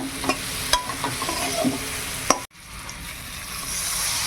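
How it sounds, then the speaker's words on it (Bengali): Hog plum (amra) pieces frying in hot oil in a pan, a steady sizzle broken by scraping stirs and clacks of a spatula, with a sharp knock near the middle before the sizzle settles into a quieter, even hiss. "ভালো করে তেলে ভেজে নিতে হবে"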